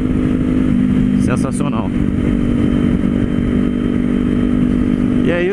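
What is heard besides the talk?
Kawasaki Z400 motorcycle engine running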